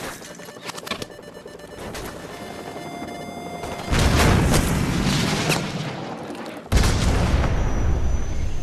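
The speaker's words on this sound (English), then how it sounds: "grab another Stinger and fire again" Stinger missile launches and blasts in a Call of Duty 4: Modern Warfare Remastered campaign battle, with a low rumble and distant gunfire that swell into two loud booming roars.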